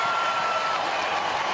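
Stadium crowd at the Gold Coast Sevens rugby quarter-final between Australia and Kenya, cheering after a try: a steady, broad wash of distant crowd roar and applause filling the whole short moment, with no commentary heard.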